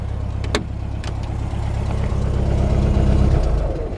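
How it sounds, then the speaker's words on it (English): A 1972 VW Beetle Convertible idles through its pea shooter exhaust, a steady, close, low rhythmic burble with a slight rise in loudness partway through, no talking. "The iconic sound of the pea shooter exhaust."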